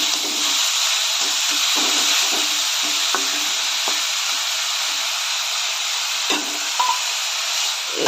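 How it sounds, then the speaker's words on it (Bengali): Papaya pieces with salt and turmeric fry in a pan with a steady, even sizzle that runs throughout. Faint stirring scrapes and light clinks sound now and then beneath the hiss. "এবার একটু ভালো করে ভেজে নেব।"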